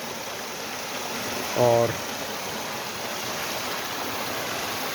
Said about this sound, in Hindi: यहाँ पर इस नदी का जो कलकल की ध्वनि है उसको आप सुनिए